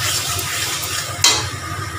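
Potatoes being sautéed in a pan for dinner, a close sizzle with scraping stirs and a sharp clatter of the utensil against the pan partway through, without any talk.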